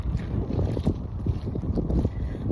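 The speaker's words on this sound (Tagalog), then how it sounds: "The air is very windy." Strong wind blowing outdoors on a walk to a neighborhood convenience store, heavy gusty rumble buffeting the microphone continuously and close, with no voices.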